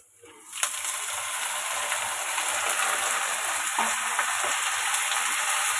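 Washed moong beans hit a hot pan of fried onion, chili and tempering spices with a sudden loud hiss, then settle into a steady, close, even sizzle that continues without talk.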